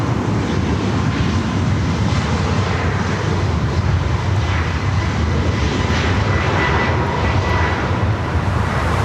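At Los Angeles International Airport, a SkyWest jet is cleared onto runway 24 left, and a loud, continuous aircraft engine roar fills the whole stretch, close and unbroken, with no voices.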